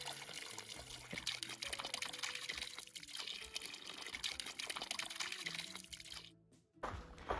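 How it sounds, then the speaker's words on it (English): Spring water flows straight out of a mountainside at Round Valley in the San Jacinto Mountains, a steady pouring trickle heard close and alone, briefly dropping out near the end. "That water is not being pumped from anything,"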